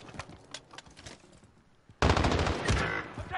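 Sniper fire in a video game: faint distant shots early, then a sudden loud burst of rapid gunfire crackling on for over a second, close and dense.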